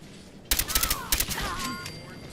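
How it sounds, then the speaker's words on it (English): Gunfire from Gunners raiders in Fallout 4 with the Sim Settlements 2 mod: a burst of rapid shots starting abruptly, then scattered bangs, with voices and game sounds underneath. "they're shooting at Codsworth"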